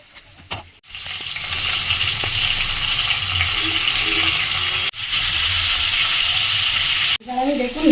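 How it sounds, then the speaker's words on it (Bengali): Cut mangoes for pickle being stirred in a pan, a continuous hissing sizzle with soft scraping, interrupted by brief gaps, close and without talk. "এবার আমি আমগুলো আস্তে আস্তে নাড়তে থাকছি।"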